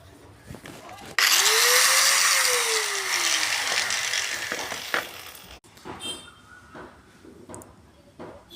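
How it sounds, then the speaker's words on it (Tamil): A power grinder spins up sharply and bites into a metal motorcycle suspension part, a loud harsh whine with falling pitch for about four seconds, then cuts off amid workshop clatter. "நான் கிரைண்ட் பண்ணி காமிக்கிறேன்"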